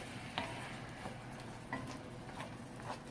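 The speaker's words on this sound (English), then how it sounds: "So I'm going to mix that all up." Honey butter garlic chicken stirred in a pan as the butter glaze cooks down, with a faint soft sizzle and a few light scraping strokes at irregular intervals.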